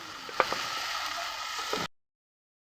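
Vegetable bhaji fries in a pan with a soft, steady sizzle and a few light stirring clicks, then cuts off into silence.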